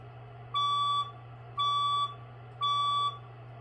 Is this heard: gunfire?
no